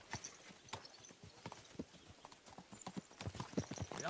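Horse hooves clip-clopping in Kingdom Come Deliverance 2, a quick steady trot of sharp close hoofbeats on hard ground with faint tack rattle, growing a little louder and busier toward the end.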